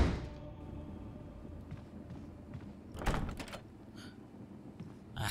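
A locked door is tried in the video game Resident Evil HD Remaster, giving a couple of clunks and rattles of the handle and wood against a quiet ambient game background.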